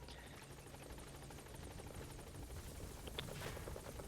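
A helicopter's rotor chops steadily in a continuous whirring drone in Metal Gear Solid V: The Phantom Pain, fairly faint and distant-sounding, with occasional bursts of other noise.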